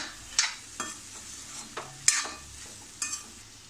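Raw banana bhaji, lightly sprinkled with water, is stirred as it cooks in a pan. About five distinct spatula scrapes and clanks come at a loose, unhurried rhythm over a soft background sizzle, with no voices.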